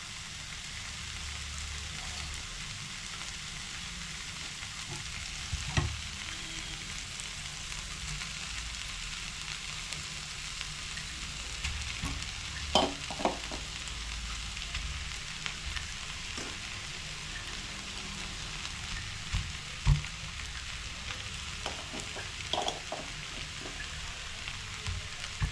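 Potato stirred into a frying pan with other vegetables for a vegetable cutlet, giving a low, steady sizzle with scattered soft taps and scrapes of a spoon against the pan over a long stretch.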